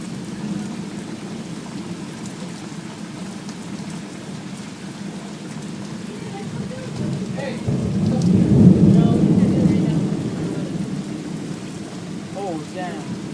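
Summer thunderstorm in Fargo, North Dakota, in June 2013: steady rain pours throughout while a deep roll of thunder swells and fades in the middle, with a faint voice briefly near the end.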